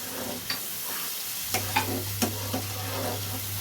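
Coriander egg curry stirred in a bowl makes a low sizzle with a handful of distinct scraping and knocking strokes, close and moderately quiet, with a faint steady hum running underneath.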